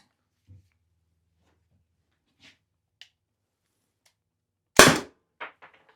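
A Byrna CO2 launcher fires one loud sharp crack near the end, followed by a couple of softer pops, with a few faint clicks spread across an otherwise quiet stretch.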